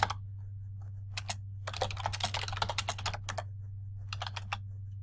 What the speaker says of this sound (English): as I'm typing my page number